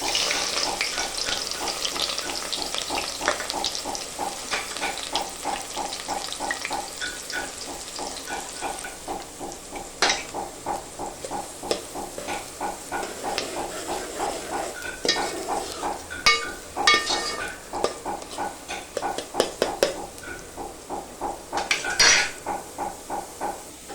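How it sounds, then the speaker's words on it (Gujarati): Sliced onions frying in hot oil in a pan for a chicken fry, a crackling sizzle broken by repeated rhythmic scrapes and clatters of a spatula against the pan, growing busier and louder toward the end. "તેલ ગરમ થાય એટલે અંદર કાંદા નાખી દેવા"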